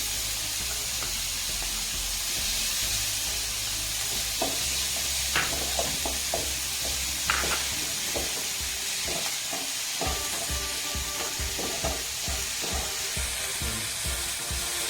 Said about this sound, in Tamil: அடுத்து தக்காளி போட்டுக்கலாம், கருவேப்பிலை போட்டுக்கலாம்.